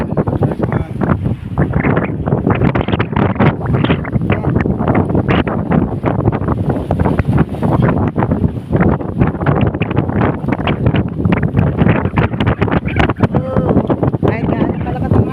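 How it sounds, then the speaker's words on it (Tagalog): Strong wind buffets the microphone on a fishing boat at sea. The roar is loud and constant and fills the whole stretch, and voices speak faintly beneath it. "Kahit gaano kalakas ang hangin, no?"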